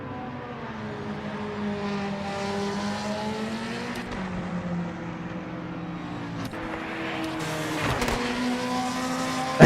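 Race car engine in a racing simulator game, a steady droning whine that shifts pitch as it revs and settles, with a brief tire or gear transient near the end, fairly loud and alone without talking.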